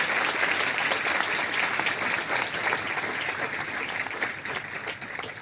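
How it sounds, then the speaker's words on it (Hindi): Loud, sustained applause fills a church convention hall at the Believers Eastern Church gathering, dense crowd clapping holding steady throughout with faint voices beneath. "हमारे बिलीवर्स ईस्टर्न चर्च के हेडक्वार्टर्स की ओर से जोरदार तालियां बजाते हैं सबके लिए"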